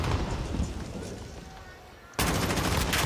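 Automatic gunfire in the Call of Duty Modern Warfare search-and-destroy match, dense crackling bursts that thin out then resume abruptly and loudly, with commentary voices underneath.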